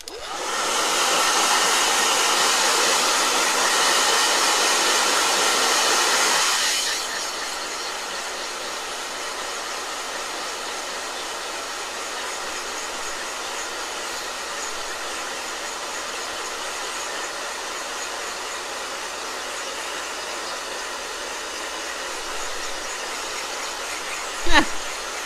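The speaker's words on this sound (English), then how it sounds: "Blow dryer." A blow dryer runs loudly and steadily with a constant airy whir for about seven seconds, then switches off, leaving a quiet room hum and a single faint knock near the end.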